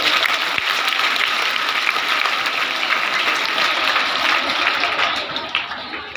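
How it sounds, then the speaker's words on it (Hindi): Children clap together in a sustained burst of applause at a school awareness session on good touch and bad touch, a dense steady patter that fades slightly near the end. "ताली बजाओ, जल्दी आएगी।"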